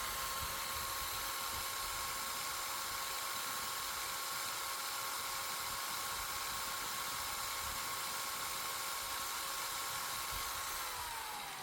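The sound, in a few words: DongCheng DZJ02-13 electric drill running for RPM test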